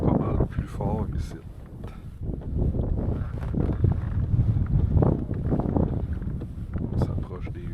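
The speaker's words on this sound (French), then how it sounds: "Le vent il est pas mal plus fort ici." Strong gusty wind buffets the microphone in a steady low roar, with water sloshing underneath a kayak on a lake and brief faint voices.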